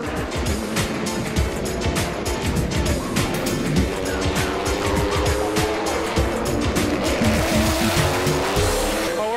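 IndyCar race cars scream past close by on the 2013 Honda Grand Prix of St. Petersburg street circuit, their engine pitch rising and falling over about nine seconds with some tire squeal and no voices.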